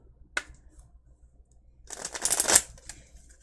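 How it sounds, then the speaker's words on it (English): Tarot cards riffled in a brief shuffle, a single soft tap followed by a denser burst of papery flutter about a second and a half long, close and fairly quiet. "So I'm gonna do one more shuffle."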